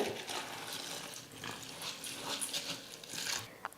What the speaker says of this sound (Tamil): தண்ணியில் ஒரு 2-3 முறை நல்லா நான் வந்து அலசி எடுத்துக்க போகிறேன்.